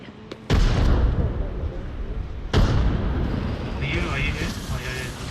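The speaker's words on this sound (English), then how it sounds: "Grenade." Grenade explosions in a video game firefight: two sharp, loud blasts a couple of seconds apart, each followed by a rumbling decay, with faint voices talking toward the end.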